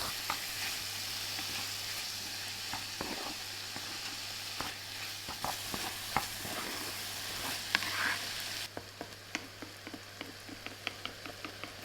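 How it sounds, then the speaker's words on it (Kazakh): Steady crackling sizzle of meat and onions frying in hot oil, with occasional sharper pops and scraping stirs throughout, close and fairly loud. "етіміз піскенше қуыра бастаймыз"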